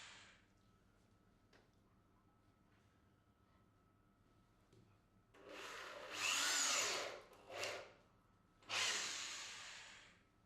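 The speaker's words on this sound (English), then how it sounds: "drill a hole to a depth of 5 mm to accept the faceplate" A power drill whirs in three loud bursts while drilling a 5 mm deep hole in wood, the first burst longest, after a stretch of quiet room noise.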